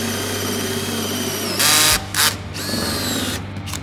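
A power drill whirs in short bursts over a steady mechanical hum, stopping and starting a few times nearby.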